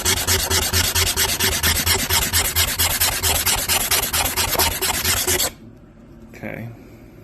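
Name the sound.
scratching and smoothing a gouged ATV surface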